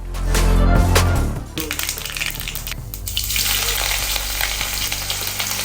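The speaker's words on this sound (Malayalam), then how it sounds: "അതിലേക്ക് ഇത്തിരി കടുക് ഇട്ടിട്ടുണ്ട് കേട്ടോ ഞാൻ. അപ്പോൾ കടുകൊന്ന് പൊട്ടാനായിട്ട് ഇങ്ങനെ വെയിറ്റ് ചെയ്തുകൊണ്ടിരിക്കണം." Mustard seeds spluttering in hot oil in a pan, loud close crackling and popping that starts with a strong burst and settles into dense continuous sizzling.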